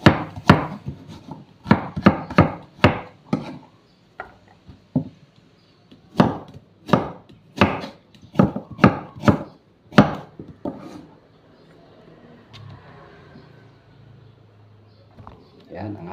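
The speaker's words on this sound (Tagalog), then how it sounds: "Okay, hiwain na natin ang ating luya" Knife chopping ginger on a board in a home kitchen, a run of sharp, close, rhythmic strikes in uneven bursts, then quieter scraping near the end with faint voices.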